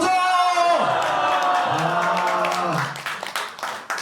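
A crowd at a Buddhist dharma assembly at Boeunsa temple in Gwangju lets out a sustained shout and cheer, loud and full, tapering into scattered clapping toward the end.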